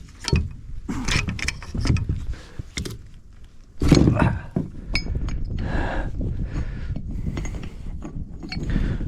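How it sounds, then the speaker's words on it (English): A wrench works a jam nut on the hydraulic gear charge pump of a Case 450 bulldozer, making irregular metallic clinks, taps and scraping mechanical clatter close by. "I am backing off this jam nut"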